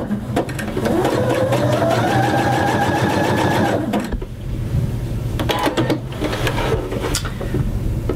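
A sewing machine runs a test zigzag stitch, a loud, close, continuous whirring hum with a rising motor tone that briefly pauses and then resumes with clicking.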